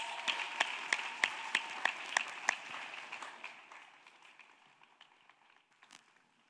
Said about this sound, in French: Let us clap for Jesus.